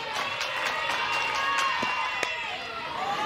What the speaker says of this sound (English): They're already standing up, clapping.